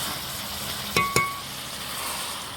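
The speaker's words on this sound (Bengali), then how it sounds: "এখন আমি পরিমাণ মতো ঝোল দিয়ে দিব" Broth is poured into a pot of desi chicken and potatoes, giving a soft, steady sizzle broken by two sharp clinks of metal against the pot. No one speaks.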